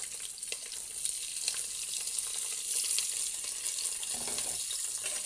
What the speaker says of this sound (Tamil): வெங்காயம் நல்லா வதங்கிக்கணும்.